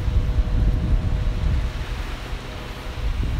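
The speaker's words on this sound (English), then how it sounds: "it is very windy and cold by my standards here this morning" Wind gusting across a cold beach, a rough low rumble of buffeting wind with faint surf beneath, steady and unbroken throughout with no voices.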